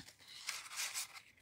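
Paper being cut out for card making with a Stampin' Up Flowering Fields design: a soft, continuous close-up rustle and crisp swishing of paper for about a second and a half, with no talking.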